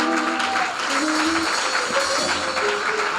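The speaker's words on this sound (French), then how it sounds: "On va les honorer par les acclamations." Applause and cheering from a church congregation honouring guests during a service, a dense steady wash of clapping with voices and tones running through it for a few seconds.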